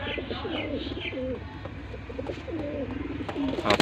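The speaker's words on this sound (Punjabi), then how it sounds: "ਲਓ ਵੀਰ ਜੀ ਆ ਕਬੂਤਰ ਹੈਗੇ ਦੋ ਜੋੜੇ ਹੈਗੇ" Golden Teddy pigeons coo repeatedly, in soft rolling bursts from close by, with a few faint chirps mixed in and quiet background noise.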